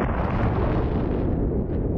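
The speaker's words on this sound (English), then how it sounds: "both sides test ever more powerful nuclear weapons" A Cold War era nuclear weapon test explosion, a loud, dense, sustained roar and rumble that fills the whole two seconds without letting up.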